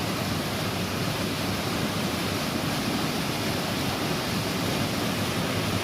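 Kolla Bailu waterfall near Madanapalle roars in a constant, loud, broadband rush of falling water, steady from start to finish with no voices over it.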